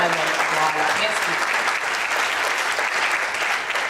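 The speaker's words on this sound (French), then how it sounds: "Manon Pierson, je vous demande d'applaudir." Audience applause at a 2018 concert in Bouligny, dense and loud continuous clapping from a crowd sustained throughout, with some voices mixed in underneath.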